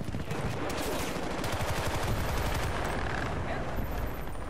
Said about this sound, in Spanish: El poder de las ametralladoras ligeras, chaval.